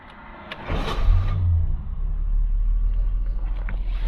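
A Triumph 2500 automatic saloon's engine cranks briefly, catches quickly and settles into a steady, close, low burble at idle, with no talking.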